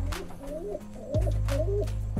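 Pigeons coo in a courting pair in close, clear, repeated phrases with a steady low hum in the background.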